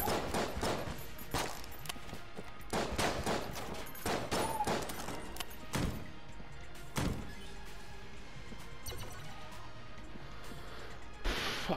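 AK rifle fire in the video game Enter the Gungeon, rapid irregular bursts of sharp shots and impacts spread across the stretch, fairly quiet against low game music.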